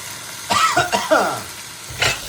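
Chicken pieces and grated coconut fry in a hot pan, giving a soft sizzle with a few scraping stirs and short bursts of louder stirring close by.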